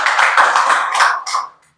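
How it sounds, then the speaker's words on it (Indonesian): A classroom group of students applauds their classmates after a presentation, a burst of dense clapping from many hands that fades out after about a second and a half. "tepuk tangan buat teman-teman kita"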